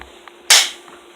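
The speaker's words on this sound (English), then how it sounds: "Now put a BB in it and shoot it at the target." A single sharp crack of an airsoft BB gun firing at a target, loud and close, with a quick decaying tail over a quiet background.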